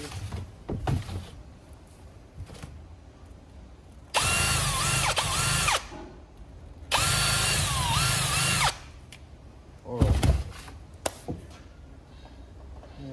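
A power drill cleans out bolt holes during a Titan Wagner main housing replacement, two sustained high whirring bursts of a few seconds each plus a brief third spin, separated by quieter clatter and handling noises, close by.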